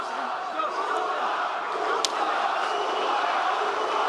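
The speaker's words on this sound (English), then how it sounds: "Pro-Nurmagomedov crowd here inside the Etihad Arena" Steady roar of an arena crowd at a UFC Fight Night bout between Cory Sandhagen and Umar Nurmagomedov in the Etihad Arena, a continuous loud wash of cheering with a brief sharp spike midway.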